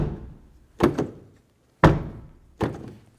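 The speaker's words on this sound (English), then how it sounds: "let's quickly test the outside door handle functionality" Three separate solid thunks from the outside handle of a 2003-2007 Honda Accord rear door being worked, each a sharp latch-and-door knock with a short decay, close and loud with no talking.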